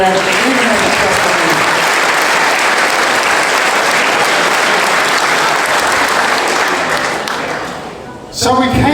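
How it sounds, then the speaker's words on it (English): Loud, dense applause from a crowd at the Super League rugby season launch, a sustained roar of clapping that fades out near the end before a voice begins speaking. "Give it a round of applause."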